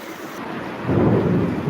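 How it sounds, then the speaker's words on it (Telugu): Thunder rumbles low and heavy during a downpour in Kakinada, swelling about halfway through over a constant hiss of heavy rain. No voices are heard. "పెద్ద పెద్ద ఉరుములు అయిపో"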